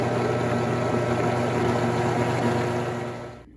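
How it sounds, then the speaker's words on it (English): A blender whirs loudly with a steady motor hum as soup churns inside, then winds down at the end. "Now we're gonna add our soup to the blender"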